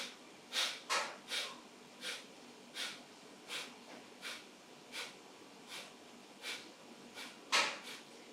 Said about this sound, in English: So ready for that big breath in.